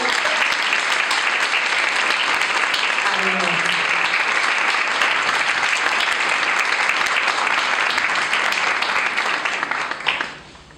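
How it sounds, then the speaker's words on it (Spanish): A warm, sustained round of applause from the audience at a book presentation, steady and full for about ten seconds before tapering off, with faint voices murmuring underneath. "Les pido un fuerte aplauso y cálido."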